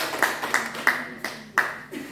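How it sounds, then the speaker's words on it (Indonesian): A quiz competition audience between health-worker teams claps in a few sharp, separate bursts, about five distinct claps spaced unevenly over two seconds, with faint voices underneath. "Mana tepuk tangannya dari lempar paji untuk pertanyaan terakhir?"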